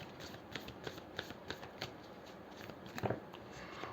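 Tarot cards are shuffled by hand in quiet, rhythmic flicks and riffles, soft and close, with a slightly busier cluster of card snaps near the end.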